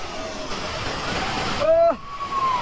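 Dudhsagar waterfall in Goa heard from a train stopped beside it: a steady, broad rushing roar of falling water fills the whole stretch, with a brief tonal whistle-like sound rising near the end.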